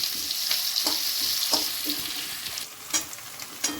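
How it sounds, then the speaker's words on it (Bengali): Onions sizzle and fry in a pan for puti fish chorchori, a steady hiss with occasional stirring scrapes and bursts of crackle, close and fairly loud throughout. "পেঁয়াজগুলো একটু সোনালি হলে আমি বেগুনগুলো দিয়ে দিলাম।"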